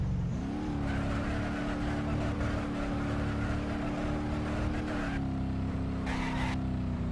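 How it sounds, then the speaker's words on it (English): Car in the BeamNG.Drive video game ploughing through sand, its engine a steady, close drone with a constant rushing grind of tyres and debris, loud and unbroken throughout. "Let's drive it through some of this sand and whatever stuff this is."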